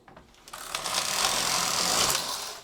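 A domestic knitting machine's carriage is pushed across the needle bed knitting a row of a sweater, a rising mechanical whir and clatter that swells after a few light clicks and runs steadily to the end.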